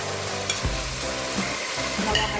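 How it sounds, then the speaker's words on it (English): Onions, tomatoes and habanero stir-frying in a pan, a steady loud sizzle with occasional scrapes and knocks of the stirring utensil. "I'm going to stir fry it like for 10 minutes, 10 to 15 minutes."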